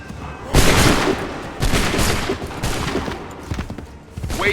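Musket volleys in Assassin's Creed 3: several loud, booming bursts of massed gunfire, each rolling into crackling echoes, arriving roughly once a second in close succession.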